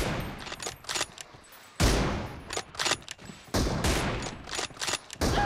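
Bursts of rapid automatic gunfire in the video game PUBG Mobile crack out in several loud volleys separated by short pauses.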